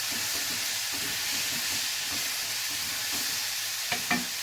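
Cumin, curry and turmeric fry in a pan while being stirred, producing a continuous close sizzle and hiss with rhythmic scraping strokes and a couple of sharp knocks near the end.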